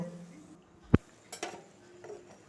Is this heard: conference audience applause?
no